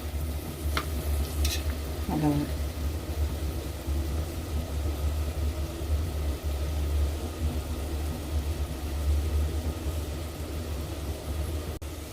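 Onions being stirred in butter in a pot for Mexican rice, with a steady low sizzle and scraping strokes, plus a brief voice-like tone early on.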